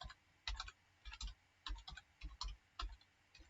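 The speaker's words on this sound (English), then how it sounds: "Just type in the IP address, the username, and the password" Short bursts of keystrokes on a computer keyboard as an IP address, username and password are entered, quiet close clicks in quick clusters separated by brief pauses, no talking.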